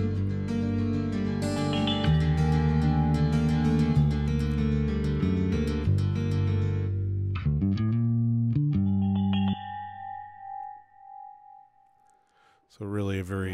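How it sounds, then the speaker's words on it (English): Rama chimes patch from a Roland JV2080 synthesizer on the World expansion card, ringing out in a layered, distorted electronic mix with dense harmonic tones that thin out into sustained chime-like notes and decaying echoes before the full mix returns. "These Rama chimes, this is a sound from the JV2080."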